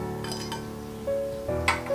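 Marigold petals stirred into melted candle wax with a spoon, light clinks and scraping of metal against the container, close and soft with faint ringing tones.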